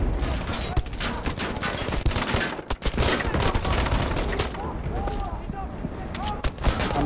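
A big gun fires in a video game amid dense, continuous loud game noise, with a voice talking over the steady bursts and a brief dip in the din near the middle.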